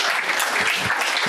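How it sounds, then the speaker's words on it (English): An audience at a men's health month brunch claps in a dense, continuous burst of applause, loud and close, with no pause through the short stretch. "Y'all clap it up some more."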